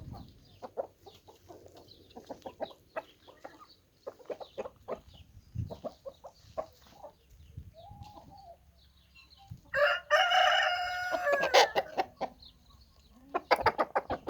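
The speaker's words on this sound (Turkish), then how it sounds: "Bunlar yeşil ve mavi yumurtacılarımız." Hens in a coop of blue and green egg layers cluck and murmur softly at close range, with a rooster's loud crow breaking in near the end over a quiet background.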